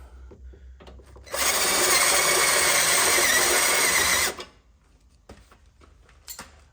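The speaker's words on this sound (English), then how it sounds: "Just gonna drill that out." A power drill bores a hole for a transmission cooler bolt on a 1999–2006 GM GMT800 truck, with one steady high-pitched whir lasting about three seconds and then stopping abruptly.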